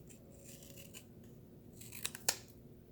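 Scissors cutting paper stickers: soft rubbing and handling, then a few crisp, sharp snips near the end, close and quiet.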